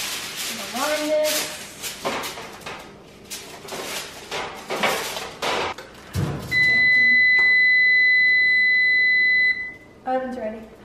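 Electronic oven beep signalling it has finished preheating: a long steady high-pitched tone held for a few seconds, then a quick series of short beeps, following kitchen clatter and people talking in a home kitchen.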